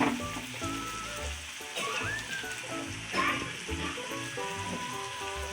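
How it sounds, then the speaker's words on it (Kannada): Slices of bread fry in oil in a pan for a bread roast, giving a steady soft sizzle and crackle with occasional stirring scrapes, close and fairly quiet, no talk. "ಆಗಿದೆ ಬ್ರೆಡ್ ಫ್ರೈ ಮಾಡ್ಕೊಳ್ಳೋಣ"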